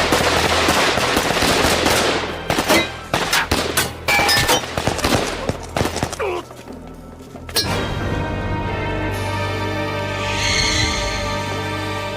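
A dense volley of gunfire from a martial arts film, rapid overlapping shots crackling loudly for several seconds, then thinning to scattered bursts before giving way to a sustained dramatic tone.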